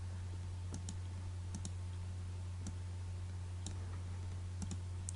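Mouse buttons click while working in Adobe Photoshop CS6. About a dozen sharp, quiet clicks, some in quick pairs, are spaced irregularly over a steady low electrical hum.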